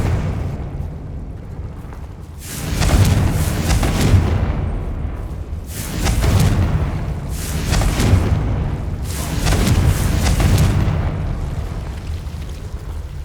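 Confringo explosion spell in the video game Hogwarts Legacy, four loud booming blasts spaced about two seconds apart, each with a rumbling tail, no talking.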